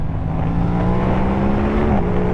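Aprilia RS 660 sport motorcycle at speed on a race circuit, its engine holding a loud, steady drone with a slight pitch rise and a brief dip near the end, close and continuous with no talk.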